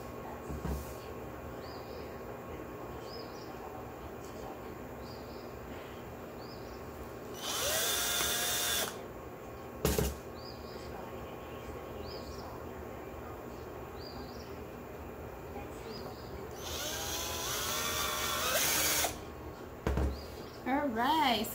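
A power drill drives screws into a wooden clutch purse frame in two separate whirring bursts of about a second or two each. Quiet room noise fills the gaps.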